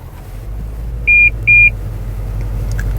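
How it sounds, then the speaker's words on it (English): Two short, steady electronic warning beeps from the Park Assist proximity sensor of a 2020 Toyota Land Cruiser, sounding while the vehicle creeps through a narrow off-road gap, set over a low engine rumble. "Toyota Park Assist goes off, says I'm close."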